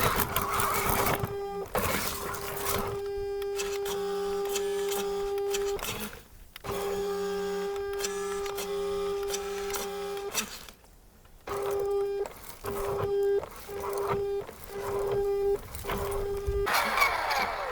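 An RC Bigfoot monster truck on an RC track with its electric motors whining at high speed as the wheels spin in a hole, the tone rising and cutting out in repeated bursts, with no talk.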